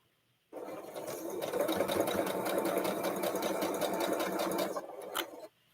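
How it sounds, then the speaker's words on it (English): A sewing machine runs steadily for about five seconds while stitching a shamrock quilt block. The motor whirs close and loud with a fast, even needle rhythm, then stops abruptly. "It looks like you're doing the sewing."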